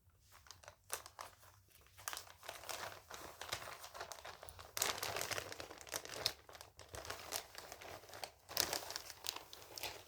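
Crisp plastic crinkling and rustling as the wrapper of a chocolate surprise package is handled and opened, with close, irregular bursts of crackle running throughout.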